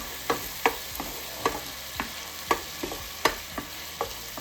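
Minced garlic sizzles in a pan of butter with a steady frying hiss, punctuated by regular scraping stirs of a utensil.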